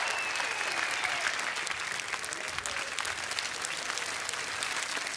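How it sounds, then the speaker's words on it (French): Audience applause in a television studio for a fan singing-contest show, a broad, sustained wash of many clapping hands holding steady throughout, with faint crowd murmur underneath. "sous vos applaudissements"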